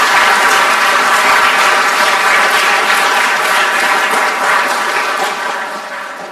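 Loud, sustained applause from a large crowd at a school dedication ceremony, steady clapping that fades slightly toward the end.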